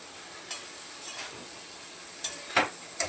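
Spiced potato and cauliflower are stirred in a pan over a steady, faint sizzle, with a few soft scraping strokes coming at irregular intervals.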